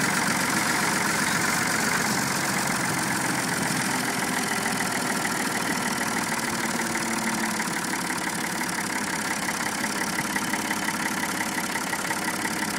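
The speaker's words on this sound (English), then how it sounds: "Let off the fuel and they got a heck of a motor brake or engine brake." A Ford diesel truck engine drones steadily up close with a dense, rattling mid-pitched roar that holds constant, like a truck slowing on engine braking.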